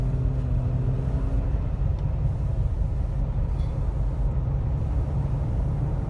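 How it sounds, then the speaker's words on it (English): A new Jeep's engine runs with a steady low rumble at low RPM as it begins to move forward, a continuous close drone with no speech. "The rattle happens as I start to move forward from that lower RPM"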